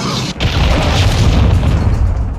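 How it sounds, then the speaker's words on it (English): A cruise missile strike in a Call of Duty game lands as a loud, close boom that rolls into a sustained rumbling roar, filling the clip after a brief dip at the start. "Friendly cruise missile approaching target."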